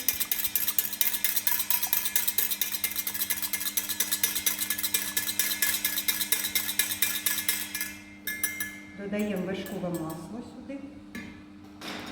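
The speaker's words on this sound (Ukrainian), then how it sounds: "заварюємо соус, ретельно мішаючи, безперервно" Sauce stirred continuously in a pot while being cooked for eggs Benedict with bacon and avocado, a rapid, steady metallic scraping and clinking that stops near the end as a voice speaks.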